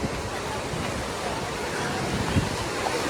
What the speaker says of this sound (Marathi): बीच लाटा खवळल्यात एकदम